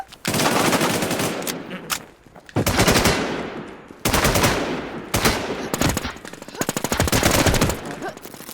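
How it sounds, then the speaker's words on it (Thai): Rapid automatic gunfire from the online survival shooter Infestation, several long loud bursts separated by short pauses, with clipped shots and no talk. "ไอ้เช่เนี่ย ยิงผม"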